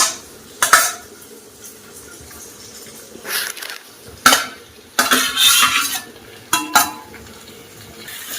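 Cleaned prawns are mixed into sautéed tomato, onion and garlic for a Chettinad pepper prawn fry. A spoon scrapes and clatters against the pan in several separate bursts over a low sizzle.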